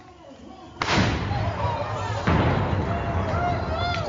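The USS Iowa battleship's big guns fire two heavy booms, the blasts rolling out into long reverberating rumbles with a distant, open-air quality; a voice is heard faintly at the start.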